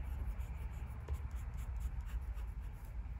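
A Platinum Prefounte fountain pen with a medium steel nib glides across paper, giving a faint, close, soft scratchy rustle in short repeated strokes over quiet room noise.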